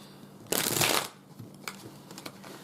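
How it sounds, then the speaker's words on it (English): Cards riffled together in one quick burst of crisp fluttering, followed by a few soft taps and clicks as the deck settles. "I am not able to shuffle these cards like I want to right now"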